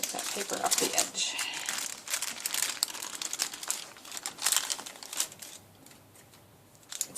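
Baking paper being peeled away from the edge of a savory spinach and bacon cheesecake, a close, dry crinkling and rustling that runs in bursts with brief pauses throughout.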